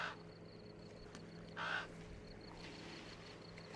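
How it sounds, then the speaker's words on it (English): A single crow caw rings out once midway, fairly faint and distant, over a quiet background with a thin, intermittent high tone and no talking. "Caw, caw, caw."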